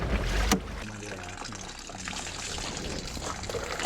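Water pours and trickles out through the drain holes of a flooded truck cab, a close, uneven dribbling that goes on throughout, with a thump at the start and occasional voices.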